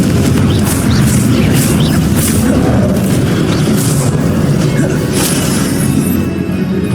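Fiery Confringo spell blasts in the Hogwarts Legacy video game, a loud, dense, continuous rumble of explosions and crashing combat effects that barely lets up across the whole stretch.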